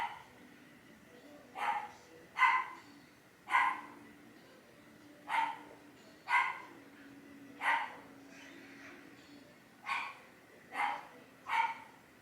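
Dogs downstairs bark in a steady series of about ten single barks, somewhat muffled and distant, as if from another room, over a quiet background.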